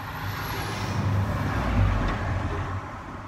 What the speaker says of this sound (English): Sorry about the background noise, but I'm sat in the lorry on the side of the road waiting for a friend